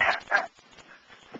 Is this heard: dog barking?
yes